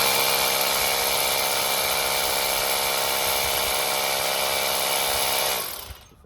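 A power drill bores a hole into a very thick wall during an electrical outlet installation, a loud steady grinding whine that runs unbroken for about five and a half seconds before winding down.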